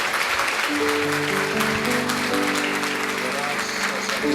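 A church congregation applauds during a Mother's Day service. Moderate, continuous clapping is heard with sustained musical tones underneath, filling the whole few seconds.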